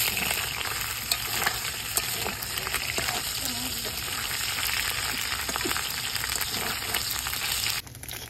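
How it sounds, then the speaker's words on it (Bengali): Small mourala fish frying in hot oil, a loud, constant sizzle with occasional crackles and stirring scrapes, close up, with no talking. "মাছগুলো এবার উল্টে পাল্টে ভালো করে ভেজে নেব।"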